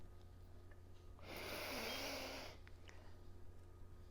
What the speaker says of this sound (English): when I breathe in through my nose, it's going to make a lot of noise